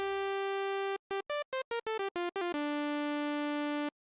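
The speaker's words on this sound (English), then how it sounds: "This is the sound of just oscillator number 1." A single-oscillator Arturia Mini V synth lead, a bright buzzy tone, plays a sustained note, then a rapid run of short staccato notes, then another long held note, loud and alone.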